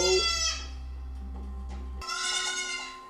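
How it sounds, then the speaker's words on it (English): A goat bleats loudly twice in a television scene from Severance, the first cry wavering and fading, a short pause, then a second sharp bleat, with no talking between them. "What is this goat doing here?"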